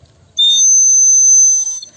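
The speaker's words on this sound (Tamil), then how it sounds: "இது ஒரு விசில்," A pink toy whistle, the kind filled with water before blowing, gives one steady shrill blast lasting about a second and a half, loud and close, with no talking.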